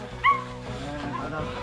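A dog on a Hong Kong hiking trail near Tiger Roar Rock lets out one short, sharp yip early on, close by, over a steady outdoor background with faint voices.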